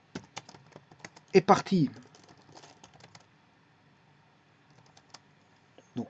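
Typing on a computer keyboard: quick, irregular clicks and small bursts of keystrokes, louder in the middle, mixed with a person speaking French nearby.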